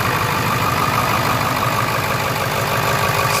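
The 7.3 litre diesel engine of a 2000 Ford F-250 Super Duty truck idles steadily with a low, even rumble and throb, close by and continuous, with no voices.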